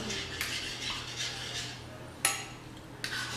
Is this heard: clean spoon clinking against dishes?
yes